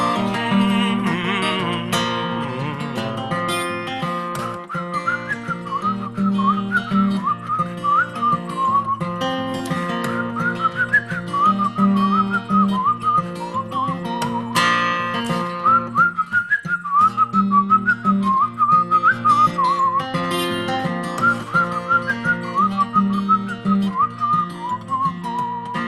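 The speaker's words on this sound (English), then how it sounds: "I never know how that whistling part's gonna go." A woman whistles a melodic tune over steady acoustic musical accompaniment during a live café performance, the whistled line sustained and bright throughout.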